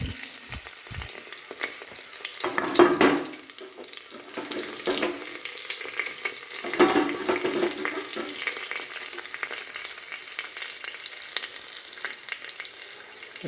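Ginger, garlic, green chilli and whole spices sizzle in hot oil, with a few bursts of spluttering as they go into the pan and a light continuous crackle after, plus occasional stirring clatter.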